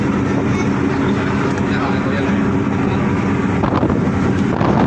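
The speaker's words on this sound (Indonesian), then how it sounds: "Tapi anginnya masih cukup kencang." Strong wind roars steadily across the microphone on a ship at sea heading toward Banda Aceh in a storm, a loud constant rush with the low drone of the vessel beneath.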